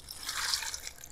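A little water is poured into leftover paprika seasoning while preparing brine for a whole roast pig. A soft, brief, close trickle and light splash is heard, with no talk.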